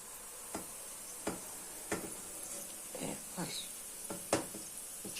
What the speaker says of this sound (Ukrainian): печериці підсмажуємо, цибулю підсмажуємо, додаємо фарш